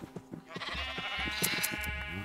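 Sheep bleat in the video game Minecraft, a wavering, drawn-out bleat that is moderately loud and close over a low rhythmic background of game sounds.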